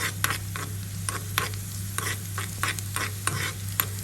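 Small shallots frying in ghee make a continuous sizzle, broken by regular, rhythmic scrapes and clacks as they are stirred, with a low steady hum underneath.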